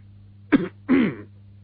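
A Cantonese storyteller imitates two dry coughs by voice, a short sharp throat-clearing hack followed by a longer rasping one, close and alone over a faint steady hum.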